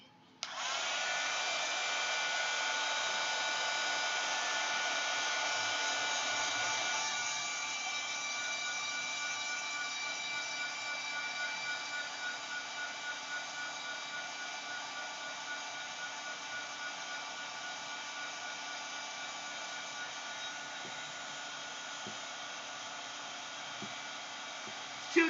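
Hair dryer blowing steadily over a mixed media art journal page, a continuous close whooshing hum that softens slightly after a few seconds and runs on for the whole stretch.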